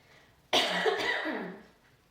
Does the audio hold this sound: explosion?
no